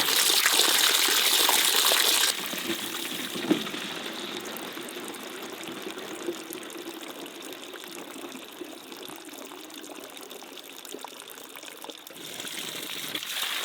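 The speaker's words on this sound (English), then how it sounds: "Wow, that is some water pressure." Water gushes under strong pressure from a newly developed spring pipe, a steady rushing stream heard close up that starts loud, then settles into a constant flow with occasional splashes.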